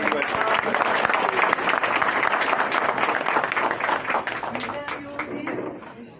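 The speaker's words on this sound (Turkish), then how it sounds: "güzel bir alkış" Audience applause fills a political party's weekly public meeting at an election office, a dense burst of many hands clapping that holds steady, then thins and tapers near the end.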